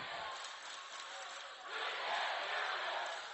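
Rival high school student sections chant back and forth at a volleyball game between Los Altos and Mountain View, a dense crowd roar of massed voices that swells louder midway and stays steady, with no clear single words.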